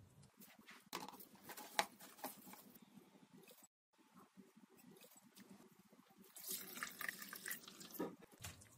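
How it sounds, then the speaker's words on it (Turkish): Strained hawthorn vinegar pours into a glass jar, heard as a faint liquid trickle with a brief pause, then a brighter, fuller stream toward the end. "Kavanozumun üzerine dolduruyorum."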